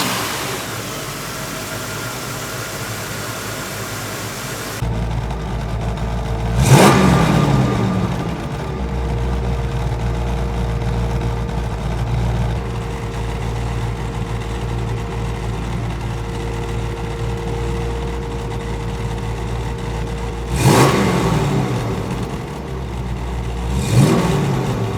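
A 1970 Plymouth Cuda with a 340 engine in Moulin Rouge paint idles with a steady low rumble, then its engine is sharply revved three times, alone and close by.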